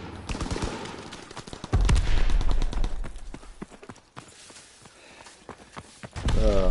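Rapid gunfire in the Call of Duty WWII beta, repeated sharp shots in bursts with a loud volley midway and another near the end, alone without talk.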